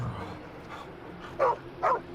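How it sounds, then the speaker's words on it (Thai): A dog in the video game Westland Survival gives two short, sharp barks in quick succession over a low, quiet game ambience. "หมาที่ไหนมาเห่าวะเนี่ย"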